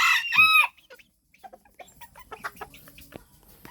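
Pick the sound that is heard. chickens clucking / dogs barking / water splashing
chickens clucking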